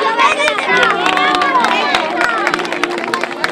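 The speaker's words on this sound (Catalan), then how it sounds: "Un flor d'aplaudiment per tots." A crowd applauds at a district cross-country race, with scattered claps mixed into busy voices and children's chatter, all fairly loud and close throughout.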